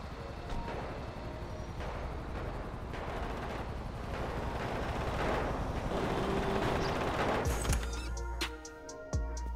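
Dense, sustained gunfire at the Ammu-Nation firing range in the video game GTA V, with rapid overlapping shots in a constant roar and a sharp crash-like burst near the end, with no talking.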